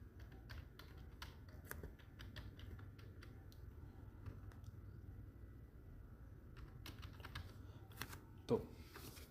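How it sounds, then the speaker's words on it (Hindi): A password is typed on a computer keyboard: a steady run of quiet, close keystrokes over a low background hum, with one slightly louder tap near the end. "पासवर्ड जैसे कि मैं डाल रहा हूँ"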